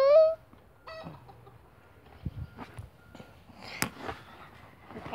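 A chicken clucks and squawks nearby, a short loud call at the start followed by softer intermittent clucks and rustling.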